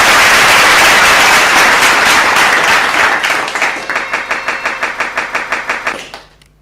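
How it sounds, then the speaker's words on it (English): An audience applauds at an awards ceremony. Loud, dense clapping fills the room, then settles into a rhythmic unison clap that slows and fades out. "we'd like all of you to continue with that applause and those trumpets"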